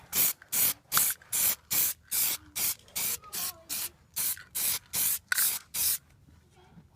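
Aerosol can of Plasti Dip sprayed onto a Chevy Blazer emblem in a fifth coat: about a dozen short, even hissing bursts in a steady rhythm, close and clear with brief pauses between.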